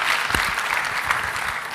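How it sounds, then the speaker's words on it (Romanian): A church congregation gives a short, dense burst of applause welcoming first-time visitors, many hands clapping together at moderate loudness. "Oh, haideți să-i aplaudăm."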